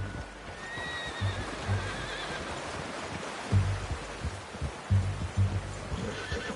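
A horse in Red Dead Redemption 2 whinnies, followed by soft hoof clip-clops and snorts over a low ambient bed, fairly quiet and a little distant.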